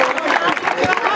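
A crowd applauds and chatters for a player at the final of a basketball tournament, a dense, steady mix of clapping and voices under close speech.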